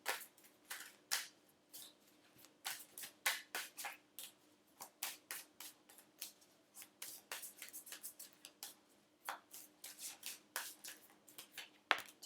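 Tarot cards are handled and shuffled in close, quiet bursts, with crisp riffling flicks and soft slaps repeating irregularly and no voices.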